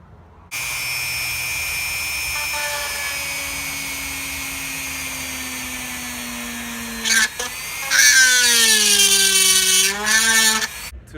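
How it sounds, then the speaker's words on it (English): Power drill boring holes into PVC pipe, a steady whining motor hum that shifts pitch, then louder grinding bursts as the bit bites into the plastic, close and without talk. "Drilled holes into the PVC pipe."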